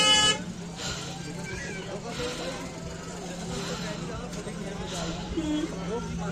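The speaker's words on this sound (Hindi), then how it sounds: "और इस समय यहाँ पे कुछ इतना ट्रैफिक है।" Street traffic at a busy hill-station viewpoint in Nainital, with vehicle horns tooting intermittently over a steady crowd and engine din, while people talk nearby throughout.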